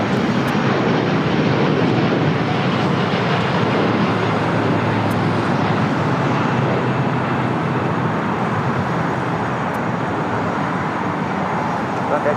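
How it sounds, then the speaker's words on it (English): A LATAM Boeing 787-9 Dreamliner takes off at LAX, a sustained broad jet roar with a low steady hum, loud at first and easing slightly as it continues. "That was Latam 8087 taking off to Sao Paulo, Brazil on a 787-9 Dreamliner."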